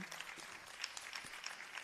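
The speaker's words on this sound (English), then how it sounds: "So I really I think they need one round of applause." A crowd at a Bharatanatyam arangetram dance debut gives musicians a soft, steady round of applause, heard faint and distant with a few sharper claps.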